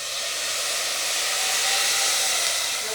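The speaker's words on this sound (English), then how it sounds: "it should sizzle like this" Water hits seasoned meat with rice and pine nuts in a hot pan, giving off a loud, steady hissing sizzle that holds evenly throughout with no talk.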